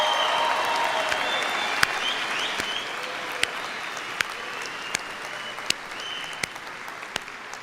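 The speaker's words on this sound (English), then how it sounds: "Can I get another round of applause for the SUNY Oswego class of 2026?" A large commencement crowd applauds the SUNY Oswego class of 2026, a sustained dense wash of clapping with a few sharper individual claps and whoops popping out over it, steady and fairly loud with no talking.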